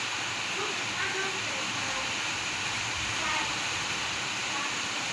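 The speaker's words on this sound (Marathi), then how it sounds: "पाऊस चालू आहे बघा बाहेर" Steady, even hiss of rain falling outdoors, continuous and moderately loud with no breaks, like a downpour heard from nearby.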